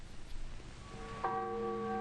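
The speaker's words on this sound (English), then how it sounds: "The bells say, come to church, come to church." A church bell struck once, ringing out with a bright, sustained metallic tone that lingers and slowly fades after a short stretch of low background noise.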